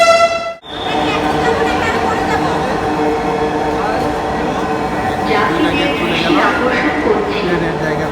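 A metro rail train arrives at a city station and its doors open: a brief tonal chime cuts off, then a steady rolling rumble with whirring, shifting mechanical tones, while a voice speaks over it.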